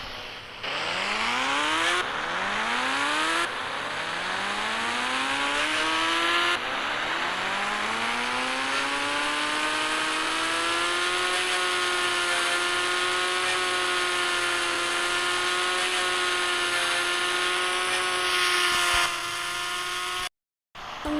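A Yamaha R15 or Kawasaki motorcycle engine revving close by, several rising throttle blips followed by a long sustained high-pitched drone, loud and continuous with no voices before a brief cutoff.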